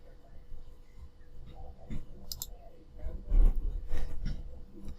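Mouse clicks while working in PowerMill CAD/CAM software on a lathe grooving and parting-off setup: a few soft, sharp clicks scattered over quiet room noise, faint and close.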